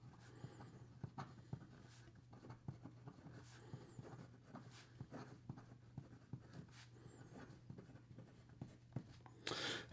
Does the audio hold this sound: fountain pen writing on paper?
yes